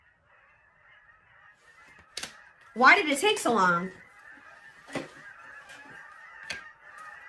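Several loud goose honks in a quick cluster, followed by scattered sharper calls, with a person speaking briefly amid the honking.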